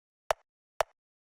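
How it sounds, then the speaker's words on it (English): A subtle percussive click sample for textured drum production sounds twice, about half a second apart: two short, crisp, isolated ticks with silence around them. "the last one we have here is just this little click sound"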